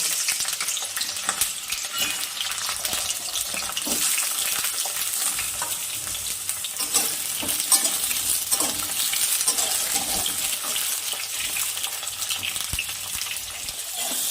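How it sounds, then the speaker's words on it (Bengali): Brinjal fries in hot mustard oil in a wok, giving a continuous close sizzle with frequent scraping stirs of a spatula throughout. "তার জন্য যে সর্ষের তেল দিয়ে নিলাম, বেগুনটাকে আমি ভেজে নিব।"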